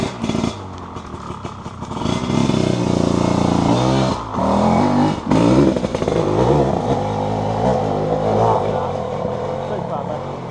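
Dirt bikes ride along a trail with engines revving and rising and falling close by, joined by clattering and scraping, while people talk over the engine noise.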